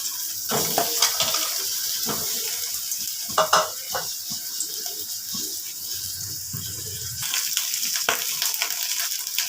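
Sliced eggplant fries in oil in a wok, giving a steady close sizzle broken by brief spatters and scraping stirs, with a quiet stretch before the frying surges again.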